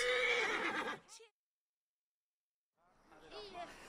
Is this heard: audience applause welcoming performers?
no